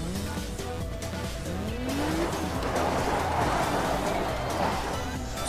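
A Tesla sports car in Need for Speed Most Wanted, with a continuous engine roar, tire squeal and rising pitch as it passes under a tunnel, loud and sustained, with a voice speaking over it.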